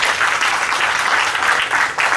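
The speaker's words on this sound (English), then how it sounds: "Let's give them a big round of applause." A school audience at a Class 3 parent orientation claps steadily and loudly, a dense wash of applause that swells slightly near the end of the short burst.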